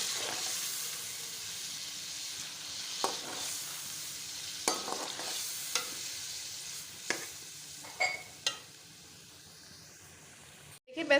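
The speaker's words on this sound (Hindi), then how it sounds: "अब इन दोनों चीज़ों को डालकर हमने अच्छे से भूनना है।" Chicken frying with crushed green chilies and onion for a white karahi, with a steady hissing sizzle and periodic stirring scrapes of the utensil against the pan, close and consistent, stopping abruptly near the end.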